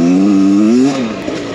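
A Beta X Trainer dirt bike engine revving on the throttle: a loud, close, buzzing engine note that climbs in pitch, then drops back as the throttle closes.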